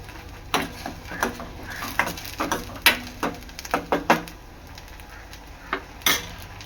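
Green masala paste sautéing in oil for a tuna curry, stirred with sharp, irregular clinks and scrapes of a utensil against the pan. About a dozen fairly loud strikes come close by over a steady low sizzle, with no talking.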